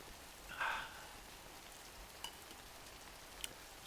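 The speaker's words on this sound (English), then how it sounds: "Sitting here in the rain." Rain falls as a soft, steady hiss with occasional sharper drop ticks, faint and continuous, with no voices.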